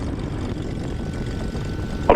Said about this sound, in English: Taxi down to the run-up area while the plane runs up,